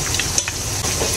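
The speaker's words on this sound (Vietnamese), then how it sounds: "Đây em đang chiên chả cá nè cả nhà." Fish cakes made from fresh fish paste frying in hot oil, a steady close sizzle and crackle with small pops running throughout, no voices.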